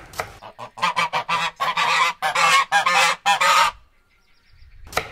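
A live goose honks loudly and close by in a kitchen setting, where goose breast is being cooked. It gives a rapid run of about a dozen harsh, nasal calls, falls quiet, then lets out one more honk at the end.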